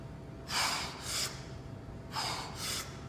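Heavy rhythmic breathing from an athlete doing CrossFit thrusters, two pairs of sharp, close exhales or gasps spaced about a second and a half apart over low background noise.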